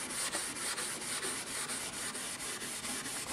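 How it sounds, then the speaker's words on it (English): Abrasive rubbed back and forth over a shellac finish on a 1920s Montgomery Regal, a steady close scratchy rasp with regular strokes repeating about every quarter second, with no voices. "as you rub it, it gets finer and finer"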